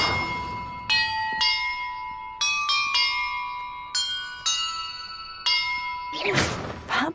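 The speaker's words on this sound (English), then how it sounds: "Perhaps the map contains clues about the order I'm supposed to ring the bells in." Bells ring in the video game Hogwarts Legacy, giving a series of clear metallic strikes at different pitches, each ringing out and decaying before the next. A brief rustling burst comes near the end.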